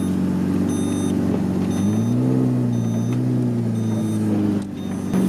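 A Lamborghini engine idles and rises slightly in pitch as the car backs up in snow, giving a loud, steady, close drone with a faint high whine and no talk.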